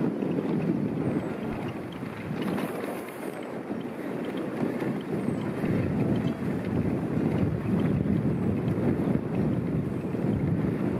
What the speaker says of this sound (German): Ist zwar windig heute